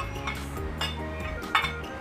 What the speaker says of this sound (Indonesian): Adukkan dia.